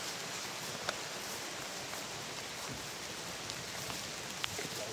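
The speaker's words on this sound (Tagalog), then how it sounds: "Ulan." Rain falls steadily outdoors as a constant, even hiss, with a few brief sharper drop ticks scattered through it and no voices.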